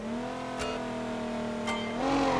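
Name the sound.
car tires spinning on launch, BeamNG video game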